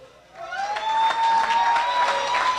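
Audience applause at a commemoration dinner builds quickly into steady, dense clapping from a full room, with a held tone ringing through it.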